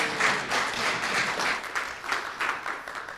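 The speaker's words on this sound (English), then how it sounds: "Let's give him a round of applause." An audience at a motivational seminar gives a round of applause, dense steady clapping that holds for a few seconds with slight swells.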